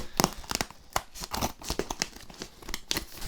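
Packing paper torn and crumpled by hand while unboxing an anniversary shirt, a close, busy run of sharp rips and crinkles with a few scissor-like snips, with no one speaking.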